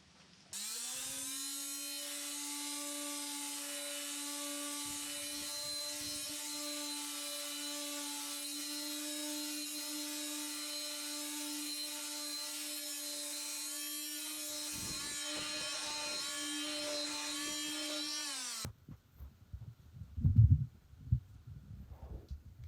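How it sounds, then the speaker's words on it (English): Power tool rounding off the sharp edges of a Starboard plastic sheet, a steady high-pitched whine held for about eighteen seconds, then stopping and followed by a few handling knocks. "So we're just going to go ahead and round those all off."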